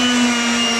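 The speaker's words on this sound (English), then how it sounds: "get my sander and just kind of sand these areas" A power sander works on the fiberglass interior of a bass boat, a steady close whirring hum with a constant motor tone through a short burst.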